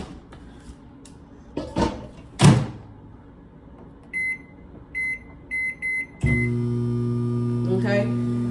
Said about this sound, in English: Probably going to put it back in the microwave for a few seconds.